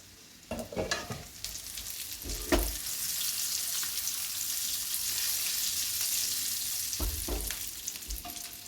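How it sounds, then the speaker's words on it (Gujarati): Stuffed gunda vegetable cooking in a pan over medium heat, stirred once with a few scraping knocks early on, then a long steady sizzle, and a couple more stirring scrapes near the end. "2 મિનિટ પછી આપણે એકવાર હલાવી લઈએ."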